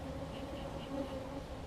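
Honeybees at an apiary make a steady, low droning buzz that holds evenly throughout, with no voices over it.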